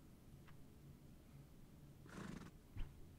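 Horses neigh in the Toca Life: Stable game: a faint, quiet whinny stands out midway, with a brief softer call near the end and hushed background between.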